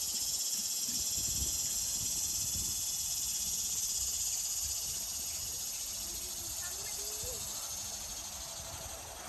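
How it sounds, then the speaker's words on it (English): Steady, dense insect drone of cicadas in swampy woodland along the Kirby Storter boardwalk in Big Cypress National Preserve, Florida, a continuous hiss-like buzz that stays level and moderately loud throughout, with faint low rumbles beneath. "Some good cicada sounds. I think that's what that is a type of cicada."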